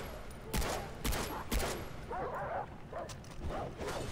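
In the video game Far Cry 3, a dog barks between bursts of gunfire, with loud, sharp shots and barks over an outdoor background.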